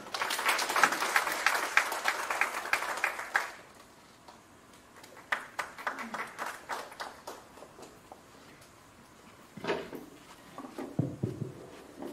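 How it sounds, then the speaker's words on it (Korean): An audience at a municipal workshop applauds to welcome a speaker, a dense burst of clapping for about three seconds that thins into scattered individual claps and small knocks before quieting. "박태순 소장님을 큰 박수로 환영해 주시기 바랍니다"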